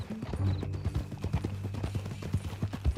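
Horse hooves in the video game Red Dead Redemption 2 clop steadily at a walking pace, close and clear, over a low hum of background sound.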